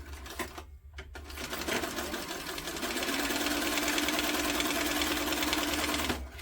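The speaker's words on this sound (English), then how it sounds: "I'm just going to do a 1/4 inch seam allowance around the sides." A sewing machine stitches a quarter-inch seam along the sides of a tote bag, running as a steady, close, continuous mechanical whir for several seconds after a brief start, with no talk over it.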